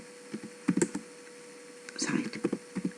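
A computer keyboard being typed on in short bursts of clicky keystrokes, close and fairly quiet over a steady mains hum, with a brief pause between two clusters of taps.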